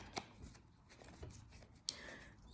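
A deck of tarot-style cards is shuffled close by, with soft riffling and a few sharper flicks and snaps spread over a couple of seconds, alone without talk.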